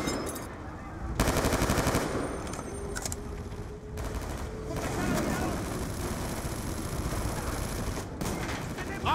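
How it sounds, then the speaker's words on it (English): Sustained heavy gunfire from a bunkered gun on a balcony in the video game Call of Duty: Black Ops 2, dense rapid bursts that roll almost continuously, with battle noise and voices underneath. "Got a heavy gun bunkered on the balcony."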